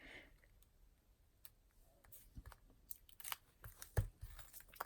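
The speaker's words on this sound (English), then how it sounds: "So I'm just going to snip a little hunk of that edge piece" Scissors snip a small piece of dimensional paper edge for a floral card, making a series of faint, close, crisp cuts and clicks, quiet and irregularly spaced.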